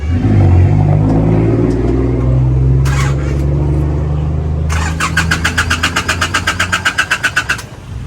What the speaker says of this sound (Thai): ไปสตาร์ทเครื่องยนต์หน่อย